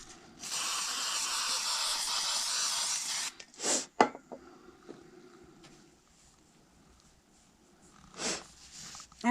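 A spray bottle mists a towel in one long hiss of about three seconds, followed by a few short soft thumps and a brief rustle, all close and fairly quiet.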